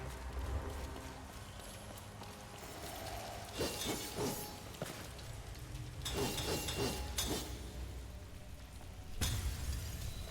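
Crystals are smashed in the dark fantasy action game Soulstice. Several short bursts of shattering cut through a low game background, some in quick clusters, moderately loud, with no talking.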